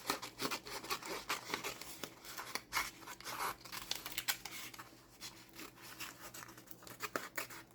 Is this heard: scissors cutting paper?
yes